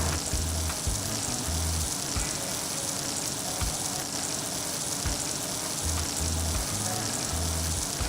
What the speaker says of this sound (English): that saute a little bit